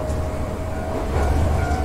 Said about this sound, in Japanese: 電車は木立の中をゆっくりと下ってまいります。